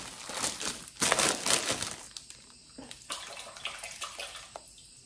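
Enoki mushrooms rinsed by hand under running tap water, a steady splashing water stream with crinkly rubbing, loudest early then lighter intermittent splashes, no talking.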